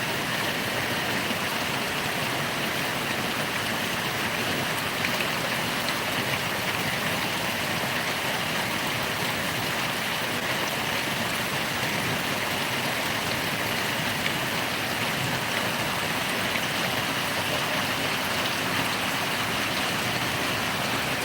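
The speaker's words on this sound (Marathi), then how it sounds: "दोन तारखेलाच पाऊस चालू झालेला आहे आणि पूर्ण वाळ वाळ वळीव टाईप पडत आहे" Heavy pre-monsoon rain pours down in Sangli district, making a dense, unbroken hiss that stays level for the whole stretch, with no one speaking.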